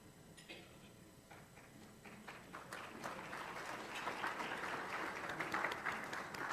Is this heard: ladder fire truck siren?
no